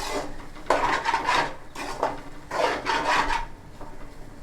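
Potatoes with salt stirred in a metal pan, heard as rasping scrapes of a spoon in several separate strokes, close and fairly loud, with pauses between them and no speech.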